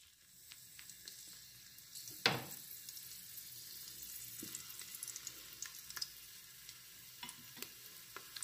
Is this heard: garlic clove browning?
yes